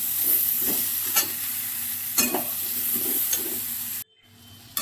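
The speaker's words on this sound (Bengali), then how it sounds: "তারপরে আমি টুকরো করে রাখা সজনে ডাঁটাগুলো দিয়ে দিলাম" Drumstick (moringa) pieces sizzling in a pan with turmeric and salt, a steady loud frying hiss broken by several scraping stirs, then cutting off abruptly near the end.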